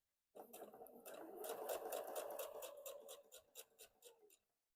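A sewing machine runs steadily for about four seconds while it stitches a knit shirt's V-neckband, giving a close, even mechanical whir with rapid ticking needle strokes. It slows and stutters briefly near the end before stopping.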